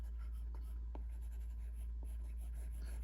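A dark pencil shades on paper with soft, continuous scratchy strokes, faint and close, a few firmer taps standing out over a steady low hum.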